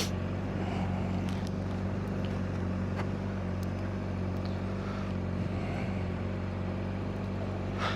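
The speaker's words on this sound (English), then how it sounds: "we will test engine sound with the visor down this time" Honda CBR 600RR motorcycle engine heard from the rider's seat with the helmet visor down, a steady low drone mixed with rushing wind noise throughout, no talking.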